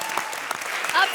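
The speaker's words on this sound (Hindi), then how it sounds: "तालियां." An audience on a televised comedy show claps loudly in a brief burst of applause, with voices mixed in over the clapping.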